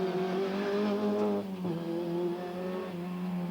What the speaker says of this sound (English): The spectators out in force as the cars charged through the lanes